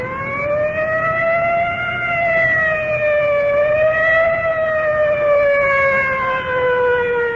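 A loud wailing siren from an ambulance or inhalator rises and falls slowly and continuously, sounding close, with no talking.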